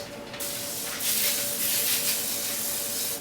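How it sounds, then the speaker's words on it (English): Cooking spray is sprayed from a can onto parchment paper, giving close, bright hissing bursts that start abruptly, surge and ease several times over a few seconds, with no talking. "I hate it when this stuff doesn't spray very well"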